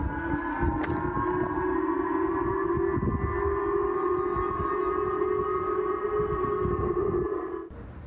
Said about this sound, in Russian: В регионах прозвучал звук сирены